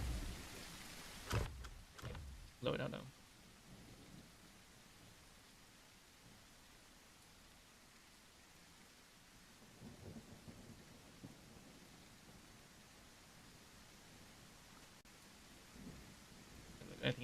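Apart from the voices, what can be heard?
rain and thunder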